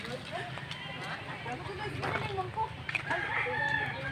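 Chickens cluck and call nearby amid outdoor background noise, with faint talking mixed in.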